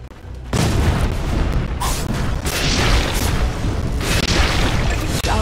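Dota 2 tower under attack, a sudden loud boom after a brief quiet opening, followed by sustained rumbling impacts and mechanical clatter with a few sharper bursts, close and continuous.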